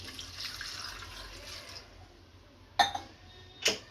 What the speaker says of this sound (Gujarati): આમાં થોડુંક પાણી નાખીશું